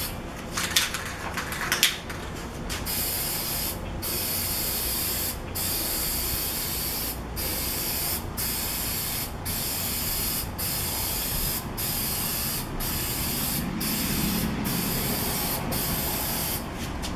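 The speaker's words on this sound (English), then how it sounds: "I'm going to spray some paint on it" Spray paint hisses in long continuous bursts as a wooden stool is coated white, each pass broken by short pauses, close and steady with a few knocks early on.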